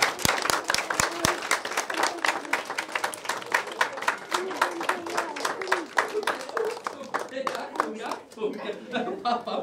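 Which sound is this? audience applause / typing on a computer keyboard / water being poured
audience applause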